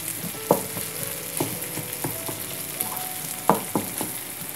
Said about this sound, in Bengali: তো এটা জাস্ট এখন ভাজা ভাজা দো পেঁয়াজার মতো করতে হবে মশলা, এবং মাছটাকে খুব ভালো মতো মেশাতে হবে।